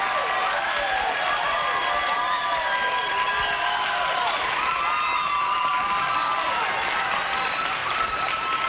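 A late-night television studio audience applauds and cheers loudly and continuously, with whoops and shouts riding over the steady clapping.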